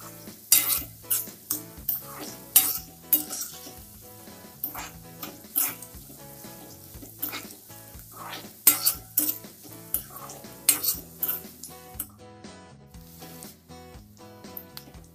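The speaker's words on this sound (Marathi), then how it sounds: "या तेलामध्ये चांगला परतून घ्यायचा आहे." Chopped onion sautés in hot oil for chicken biryani, a soft steady sizzle broken by frequent scraping and clinking of a spoon stirring against the pan.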